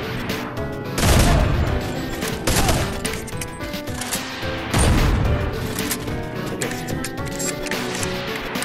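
Gunfire from the VR video game Bonelab comes as loud, dense bursts of shots with booming impacts, rolling through a cluttered, reverberant in-game space with no clear speech over it.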